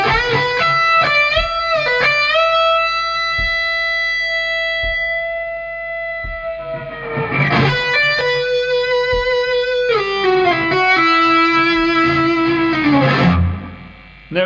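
Electric guitar playing melodic solo licks through a distortion and effects unit, with sustained bent notes and slides forming a clear lead line, loud and alone without talk.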